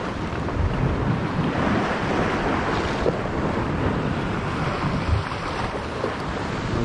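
Steady rushing water current along a rocky shoreline at a fishing spot, a continuous broadband wash with light wind buffeting, unbroken and fairly loud, no voices.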